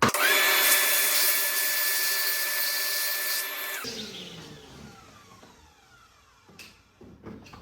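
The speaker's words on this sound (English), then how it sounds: "a vacuum and compressor works, so you don't have the metal shavings going everywhere" A shop vacuum runs loud and steady while sucking metal shavings out of a tapped head bolt hole on a Kia/Hyundai 3.3/3.5/3.8 V6 engine, then spins down into quiet with a few small clanks.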